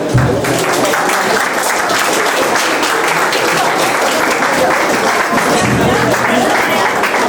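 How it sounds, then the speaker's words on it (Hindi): Loud, sustained applause from a live stand-up comedy audience cheering the performers, dense steady clapping filling the whole stretch without a break. "उनके लिए एक बार जोरदार तालियां।"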